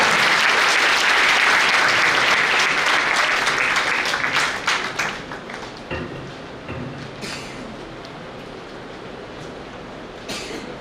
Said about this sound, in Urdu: آپ کی تالیوں میں استقبال کیجیے.